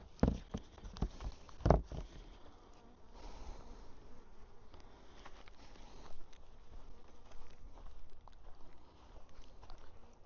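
Honey bees hum faintly and steadily around an open beehive during a swarm check, a low continuous drone, with a few sharp knocks near the start.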